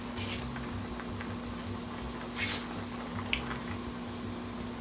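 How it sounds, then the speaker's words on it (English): Salt cod (morue) sauce boiling in a pot, a steady, close sizzle and bubbling with a constant low hum beneath and a few brief clinks. "now you can see the sauce is boiling right now."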